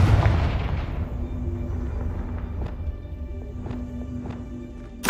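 In the Hogwarts Legacy video game, a Confringo blasting spell goes off with a heavy boom at the start that decays into a rumbling tail, followed by fainter thuds and a sharp hit at the end.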